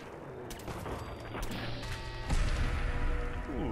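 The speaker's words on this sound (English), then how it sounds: "Heard explosions immediately" Loud explosions and booming blasts in the video game Fallout 4 crash over dense, chaotic battle noise, with a sharp impact near the middle and no talking.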